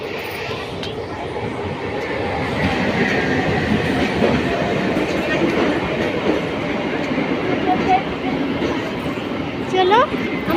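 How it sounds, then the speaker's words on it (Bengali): A train rolls in with a steady, loud rumble of wheels on rails that builds and holds, with faint squeals and clatter near the end. "ওদিকে একটা ট্রেন আসবে"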